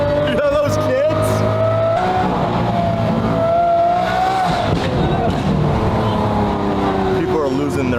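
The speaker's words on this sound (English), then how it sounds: "the car sounds like a 90s F1 car." A Lamborghini race car engine screams and revs at high pitch, rising and falling through gear changes, loud and sustained with crowd noise underneath.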